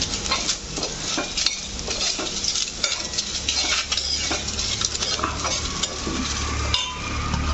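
Mutton liver with salt sautés in a pan, a steady sizzle layered with frequent metallic scrapes and clinks of a utensil against the pan, close and fairly loud.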